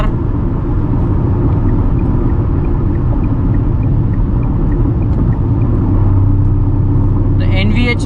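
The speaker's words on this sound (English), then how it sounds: "there we go in the 5th gear. We're cruising at about 110 kilometers per hour." Steady low road rumble and engine drone fill the cabin of a Tata Punch petrol car cruising at about 110 km/h in fifth gear, constant and loud throughout with a faint brief sound near the end.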